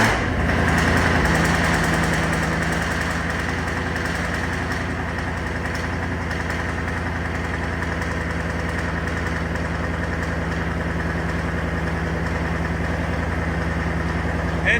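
A supercharged car engine with a Whipple supercharger, headers and aftermarket exhaust catches and settles into a loud, steady idle with a constant droning hum and a slight lift in revs at the start; no voices.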